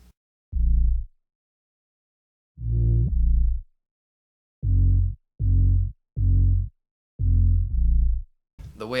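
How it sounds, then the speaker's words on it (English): An 808-style bass built from a zipper sound pitched far down and distorted plays a rhythmic pattern of deep, booming hits: single notes, a doubled pair, then a run of five short pulses with gaps of silence between. "Next, I made an 808,"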